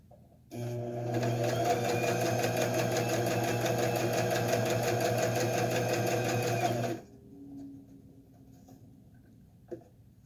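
A close sewing machine runs steadily for about six seconds, stitching quilt strips with a rapid, even mechanical hum, then stops, leaving faint handling noise and a small click.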